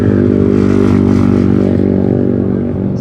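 Motorbikes on a coastal road between Brighton and Seaford, engines droning loudly and steadily as they pass close by, with a slight fade toward the end.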